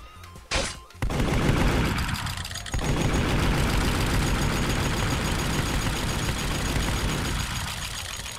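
Gunfire from a weapon in the Roblox game Murder Mystery 2, with a short sharp burst near the start and then a loud, continuous rattling barrage that runs dense and steady to the end.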